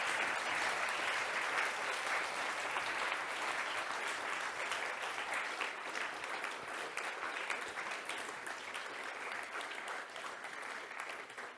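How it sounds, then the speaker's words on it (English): An audience at a talk on psychedelic therapy gives a sustained round of applause, dense steady clapping from many hands that fades slightly toward the end, with no talking over it. "another big round of applause."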